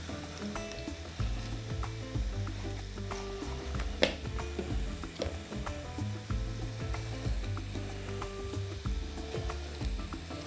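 Finely chopped red sweet pepper and small, hot green jalapeño sizzle faintly in a pan for stuffed peppers, with a steady low crackle, scattered stirring clicks and one sharper knock.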